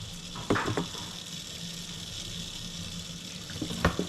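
Water rinses through a grease-blocked household drain with a steady hissing wash, close and continuous, with a few knocks and splashes over it.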